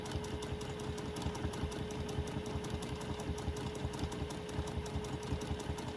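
A sewing machine running free-motion thread painting, stitching a horse collage in small steps with a steady rapid needle chatter and a constant motor hum, continuous throughout with no talk.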